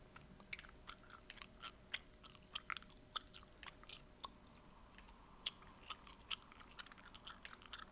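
Chewing gum is worked close to the mic in a quiet setting, giving faint, moist, irregular smacks and clicks every half second or so.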